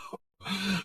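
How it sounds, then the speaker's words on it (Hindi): A short, rough throat-clearing sound is followed by a single harsh cough-like grunt, close and fairly quiet. "ये कैसे खांसी है?"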